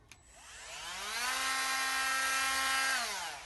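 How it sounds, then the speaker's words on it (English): A cordless mini hand grinder spins up to a high whine, holds it steadily for about two seconds and then winds down, loud and close with no talking. "you've got a great little hand grinder"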